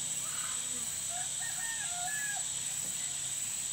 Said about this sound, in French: Et le coq chante à n'importe quelle heure.